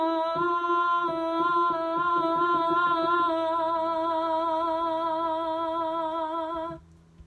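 Sung vocal exercise alternating between two notes a semitone apart, a single clear voice wavering rapidly and evenly between the pitches for about seven seconds, then stopping, with no talk.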